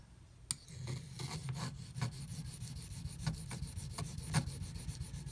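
A Spyderco Delica knife with an SG2 steel blade is having its bevel sharpened on an abrasive stone. The clip carries a steady rasping scrape of repeated strokes, with sharper clicks at intervals, close and moderately loud with no talking.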